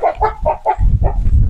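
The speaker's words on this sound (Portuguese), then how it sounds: "Olha a galinha, já encheu o terreiro de galinha." Farmyard chickens cluck in a quick run of close, loud calls after being scattered some corn on a rural smallholding, with a low rumbling underneath and no speech.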